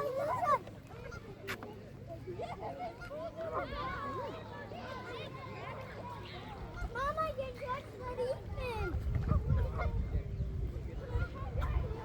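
Repeated nasal honking calls like geese from duck-like birds at Lake Scott State Park, fairly close and overlapping, with a low rumble of background noise building toward the end.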